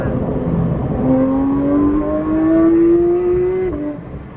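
A Porsche 992 GT3 with a Dundon titanium exhaust revs up in one long, rising pull, its smooth high-pitched tone climbing steadily before dropping off sharply near the end.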